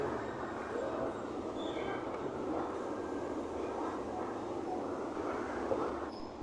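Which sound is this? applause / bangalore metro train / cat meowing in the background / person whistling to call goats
bangalore metro train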